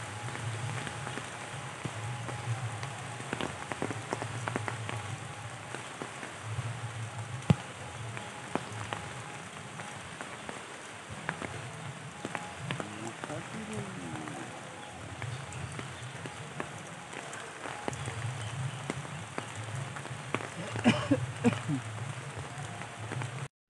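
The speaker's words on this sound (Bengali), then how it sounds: "আবার এক পশলা বৃষ্টি আসলো।" A rain shower patters in a forest, scattered drops and drips tapping leaves and ground at moderate, uneven density under a soft hiss, fairly quiet and distant throughout.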